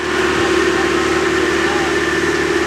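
A mid-pitched pulling tractor engine idles steadily and close at a Pro Field class tractor pull in Mound City, Kansas, with a constant hum throughout.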